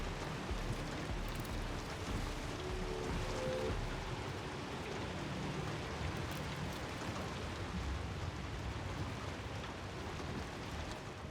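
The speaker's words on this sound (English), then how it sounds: "With the heavy rain pouring down" Heavy rain pours down in Hunt: Showdown 1896, a steady, dense hiss that holds even and unbroken from start to finish, with no voices over it.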